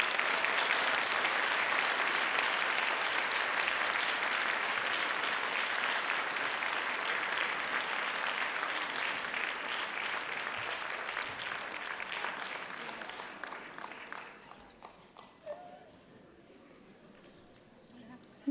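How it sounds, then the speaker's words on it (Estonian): Loud, sustained crowd applause for young singers at a children's Christmas show, continuing evenly for a long stretch before tapering off into quiet near the end. "Teeme neile ühe suure aplausi."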